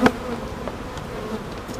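Honeybee swarm buzzing near a hive during beekeeping work, a steady close insect drone with a louder burst at the start, alone without talk.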